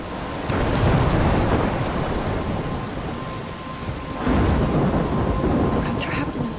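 Heavy rain and rolling thunder from a storm in the video game Life is Strange, a steady loud downpour with a stronger rumbling surge near the end, no voices.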